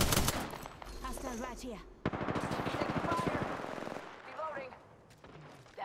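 Video game automatic gunfire: a rapid, evenly spaced burst of loud close shots lasting a couple of seconds, with further scattered shots and players talking over it.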